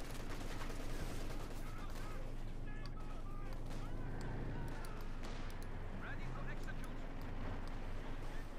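Machine gun fire and battle noise in the video game Company of Heroes 2, with rapid bursts mixed into a dense, busy soundscape under continuous commentary.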